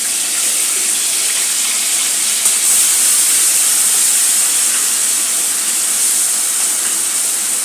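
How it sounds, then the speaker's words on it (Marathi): Finely chopped onion sautéing in hot oil with a pinch of asafoetida gives off a steady, loud, broad hiss that holds unbroken throughout with no voices. "कांदा चांगला गुलाबी होईपर्यंत परतायचा आहे"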